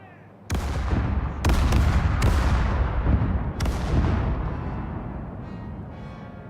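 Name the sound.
ship cannon fire in Caribbean Legend video game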